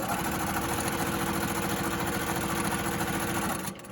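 A sewing machine stitches a fabric mask, a continuous rapid mechanical whir and needle clatter heard up close, stopping abruptly near the end.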